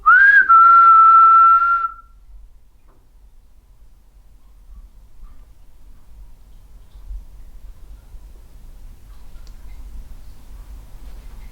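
A person whistles one short, loud, close note that rises briefly and then holds steady inside an underground shopping arcade. Near silence follows, with only a faint low rumble.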